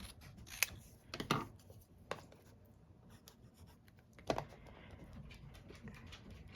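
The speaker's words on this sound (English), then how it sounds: "I'm gonna snip it right about here." Scissors snipping through card paper for a handmade card, a few sharp, close cuts spaced apart over quiet, faint scratchy handling noise.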